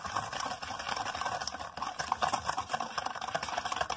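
Ingredients are stirred together in a bowl with a spoon, a soft, quiet and irregular scraping as batter for soul cakes comes together with a pinch of salt.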